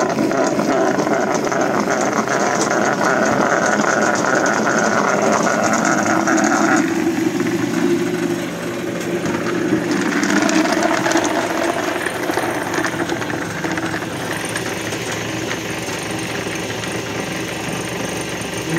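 A pellet mill machine runs continuously while it heats up, ahead of pressing oak pellets mixed with 10% coffee grounds. It gives off a loud, steady mechanical whine and drone, and the tone shifts partway through. No one speaks.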